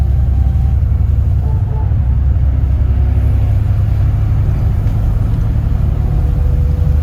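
A bus running the 192 route between Halesowen and Kidderminster, heard from inside as a steady low engine rumble and road drone, constant and fairly loud throughout with faint rattles above.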